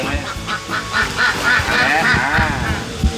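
A duck quacks repeatedly in short nasal bursts, loud and close, with a few honk-like calls mixed in.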